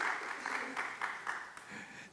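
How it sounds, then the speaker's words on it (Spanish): Audience at a comic-book talk giving a brief, fairly faint round of applause, a few scattered claps pulsing under room noise. "si quieren de una vez, aplaudamos, por favor"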